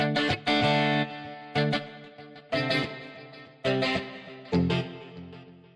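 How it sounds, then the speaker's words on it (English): Guitar chords ring out with chorus, spring reverb and a long delay, played as a series of sharp strums that decay into shimmering, echoing tails, with no talking over them. "So we can change the whole character of this part with a nice chorus sound and some reverb and a nice long delay effect."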